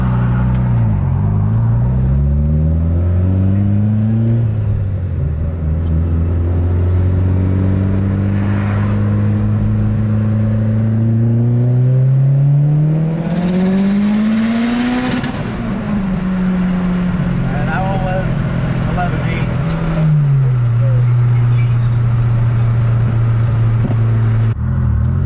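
A 500 hp Mitsubishi Evo 9 making a second gear pull, its engine droning loud and close as the pitch climbs, dips and rises again in sweeping waves over sustained acceleration, with no talking.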